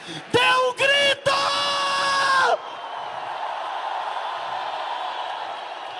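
A church congregation yells in loud bursts, two short shouts followed by a long sustained roar, then it fades into a lower, steady murmur of noise.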